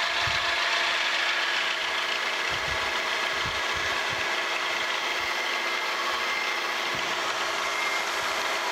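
A metal planer makes a cutting pass, its steady broadband mechanical roar running loud and continuous, with low rhythmic thumps from the drive and gearing underneath.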